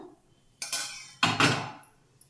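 Fried egg curry made with garlic and chilli is served from a pan into a bowl, with two clear scraping clinks of a metal spoon against cookware and quiet gaps between them.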